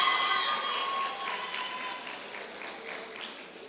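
Graduation audience clapping and cheering at a secondary school ceremony: a crowd's steady applause, fairly loud at first and easing slightly, with faint voices mixed in.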